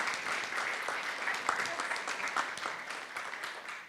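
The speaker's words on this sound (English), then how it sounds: "Please give a huge round of applause for Olga" Audience at a women in construction conference giving a speaker a round of applause, dense continuous clapping that holds steady and then tapers slightly, with no voices on top.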